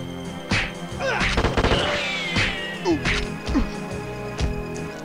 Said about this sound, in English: We got Tommy guns, people.